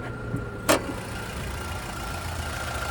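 A 2024 Toyota Tacoma Limited's 2.4-liter i-Force turbocharged four-cylinder idles in a steady, even low hum, broken by one brief sharp click early on.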